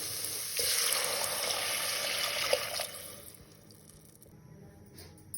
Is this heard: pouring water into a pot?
yes